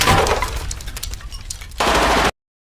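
Loud film gunfire erupts in rapid bursts, a dense crackling volley that thins into scattered sharp shots before a second heavy burst, with no voices.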